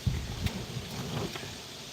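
Wind gusts through the open door of a Volvo V40, producing low rumbling buffets and microphone wind noise that run steadily through the moment.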